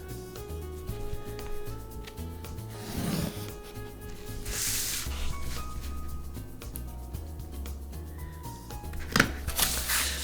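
Scissors cutting fabric panels for a bicycle frame bag, with repeated snipping and rustling cloth close by, a few louder shuffles and handling noises between cuts, no talk.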